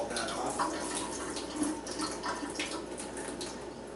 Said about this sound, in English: I'm just going to take another glass of water. Okay, and just kind of pour it over this to kind of rinse all that off.